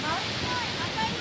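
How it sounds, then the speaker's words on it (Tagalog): Strong sea waves, a dense roaring wash of surf with wind rushing across the microphone, loud and continuous throughout the short stretch. "Kasi bukod sa malakas yung alon, walang mga life vest."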